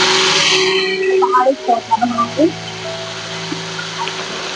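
A mixer grinder whirs loudly as it blends bhatt (black soybeans) for a Pahadi dish, then the motor noise gives way to scattered voice-like tones and a steady low hum.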